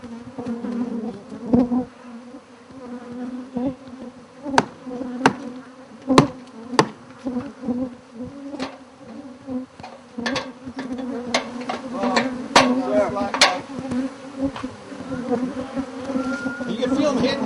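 A swarm of bees invading a house in west Houston drones in a steady, loud buzz, with individual insects whizzing close past and sharp knocks of bees hitting the listener, and faint voices now and then.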